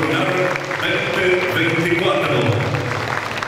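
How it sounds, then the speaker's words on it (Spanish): An audience applauds at the opening ceremony of the Agroshow Copronar 2024 agricultural fair, a steady wash of clapping continuing beneath a loud voice that carries over it. "Fuerte el aplauso de los presentes para Agroshop Gobernar"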